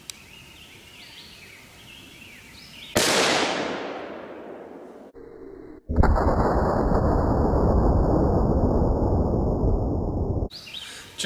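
A single 7.62x39 rifle shot cracks sharply and nearby, followed by a long rolling echo that decays across the open range, with a second burst of broad noise later on.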